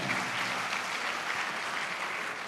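A hall audience at a poetry show at SEZ University in Indore claps in a continuous, evenly dense patter. The applause is heard from some distance and stays steady throughout, with no voices over it.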